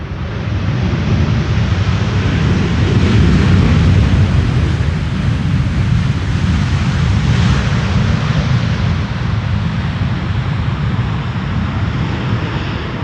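A Delta airliner lands on the Polderbaan runway at Amsterdam Schiphol, its engines a loud, sustained broadband roar that swells slightly mid-pass and holds steady throughout, with no voices.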